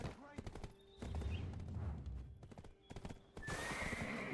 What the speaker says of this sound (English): horses can run around freely here